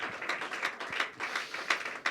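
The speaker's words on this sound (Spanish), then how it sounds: "Aplausos al nombre de Jesús" A church congregation claps along in steady, rhythmic bursts, a fairly soft and even patter of many hands filling the room without any clear speech.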